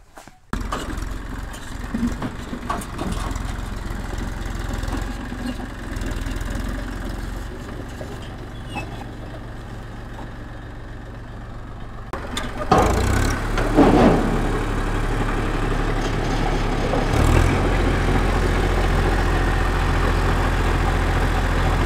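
A tractor engine runs steadily at idle, a continuous low rumble that swells and grows rougher partway through, with no talking.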